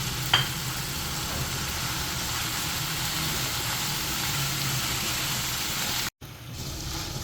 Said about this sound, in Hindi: और इसे कीमे के साथ अच्छी तरह हम भूनते हैं